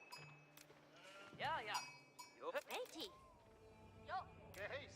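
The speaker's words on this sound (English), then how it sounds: "sheep that are going the wrong way" Several quick sheep bleats in Age of Empires come in scattered bursts, mixed with short game-like chirps and clicks, moderately loud over a busy background.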